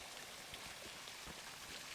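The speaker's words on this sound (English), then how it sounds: "You can probably hear some water in the back. It's actually a beautiful little waterfall" A small waterfall on the misty Tradouw Pass splashes steadily in the background, a faint continuous hiss of falling water with occasional soft low thumps.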